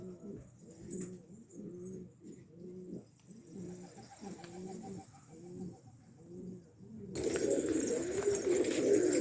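Soft, repeated cooing of pigeons in a rooftop loft in a steady rhythm, close by, ending in a burst of loud flapping and rustling.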